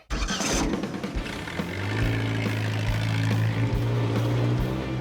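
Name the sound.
custom mashup car engine running, from a video game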